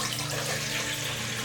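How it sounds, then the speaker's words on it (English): Lukewarm water poured steadily into a large mixing bowl, a continuous close splashing rush with no talk. "We're going to start by adding 500 milliliters, which is around 2 cups of water, to a large mixing bowl."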